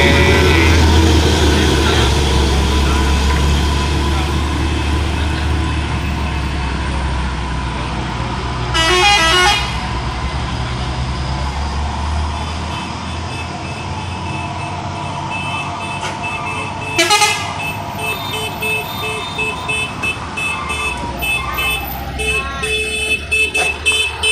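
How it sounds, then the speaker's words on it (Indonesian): Trucks climbing and descending the Sitinjau Lauik mountain road in West Sumatra, with heavy engine rumble throughout and loud horn blasts around the middle and later, traffic noise fairly close. "Banyak berbagai macam truk yang naik turun."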